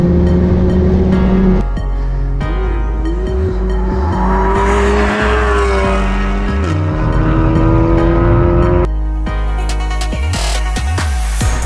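Modified cars of around 500 bhp driving on an empty race track, with loud, close engines revving and shifting through rising and falling pitches, plus tire squeal and skidding in the middle stretch.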